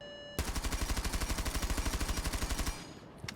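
Rapid automatic gunfire from a weapon in a video game, a single sustained burst of about two and a half seconds with evenly spaced shots at a fast rate, loud and close, then a brief tail.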